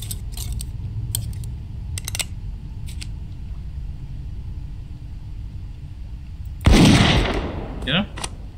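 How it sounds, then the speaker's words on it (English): Gunshot in the video game Witch Hunt, a single sharp loud crack near the end with a short trailing rumble, following a quiet stretch of low hum and a few faint clicks. "Let's see if we can shoot him from here."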